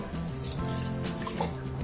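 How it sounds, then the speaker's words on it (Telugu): Water pours steadily into a pan with sugar while making syrup for crunchy sugar-coated gavvalu, a continuous close trickle and splash filling the short moment alone. "కొద్దిగా నీళ్ళు పోయాలి"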